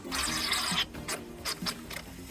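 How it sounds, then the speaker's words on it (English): Water-based coolant flows out of the cooling system of a BMW E36 Touring at the roadside. A close, rushing gush is followed by several short splashy bursts, with no talking. "There's actually water coming out."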